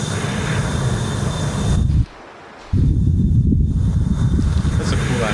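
An airplane flies in the Fortnite video game with a loud, steady, rushing engine drone that cuts out briefly near the middle and then resumes at full strength.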